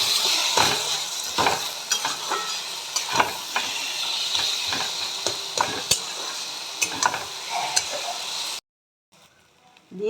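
Green peas and chopped green chillies sizzling in oil in a kadai for eggplant bharta, with steady frying hiss and repeated stirring scrapes and clinks throughout, stopping abruptly near the end.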